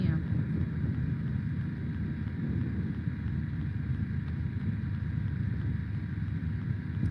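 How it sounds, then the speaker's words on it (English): Steady, low rumbling wind buffets the microphone outdoors at a campfire, a continuous blustery roar with no pauses. "I think it's too windy to continue."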